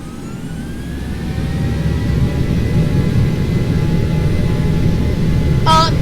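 Airplane engines in the X-Plane 11 flight simulator spool up for takeoff, a broad roar that rises after a quiet first second and holds steady, followed by a short electronic beep near the end.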